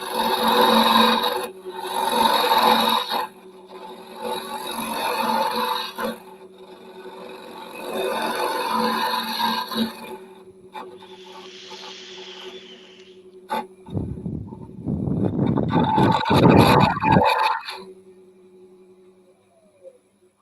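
A round nose carbide rotary bit carves into wood in repeated bursts of rough grinding and rasping, close and fairly loud, with a brief whirring spin-up between passes.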